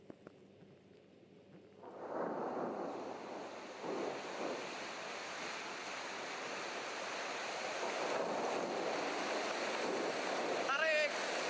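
Ocean waves crash around a boat as a sound effect, a roaring surge rising after a quiet start and staying loud and continuous with wind noise; voices shout faintly underneath.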